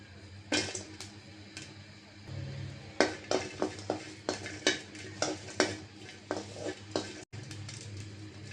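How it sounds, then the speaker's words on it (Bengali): Dried poa fish shutki and green chilies tossed in a wok, with a string of sharp metallic scrapes and clanks of a spatula against the pan over a low, steady background hiss. "কড়াইটা বসাই দিলাম এতে আমি পোয়া শুটকি বেজে নেবো কাঁচামরিচ দিয়ে দিলাম"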